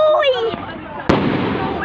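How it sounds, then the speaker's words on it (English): Fireworks go off in a residential neighborhood with one sharp, loud burst midway, followed by sustained crackling noise, while people shout and talk excitedly throughout. "They bought the wrong firework."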